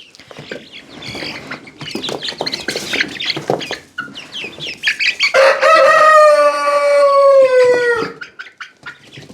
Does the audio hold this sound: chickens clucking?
yes